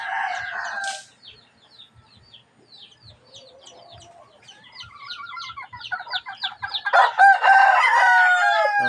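Backyard chickens in the Philippines cluck and chatter steadily, with a rooster crowing loudly at the start and again near the end, close by and with no talk.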